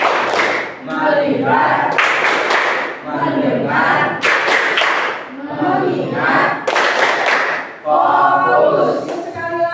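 Schoolchildren in a class clap out a rhythmic counting exercise in short, sharp bursts of unison hand claps. Between the bursts the children and a teacher chant and talk.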